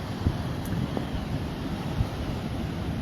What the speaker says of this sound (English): super powerful waves sweeping in